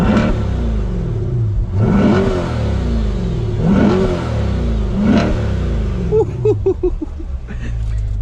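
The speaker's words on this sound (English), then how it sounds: "And we're gonna rev it." A Chevrolet Corvette C8R engine revs hard three times in a row, each loud blip rising and falling, then settles into a lumpy, burbling idle up close.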